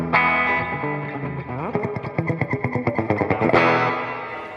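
An electric guitar runs through a Source Audio Soundblox 2 spring reverb pedal, playing sustained chords and then a rhythmic run of picked notes, loud and close with a washy reverb tail and no talking.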